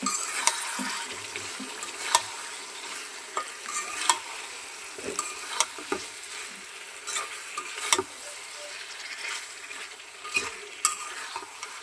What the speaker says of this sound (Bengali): এখন আমি এই যে গিলা কলিজিটি দিয়ে কষাই নেব।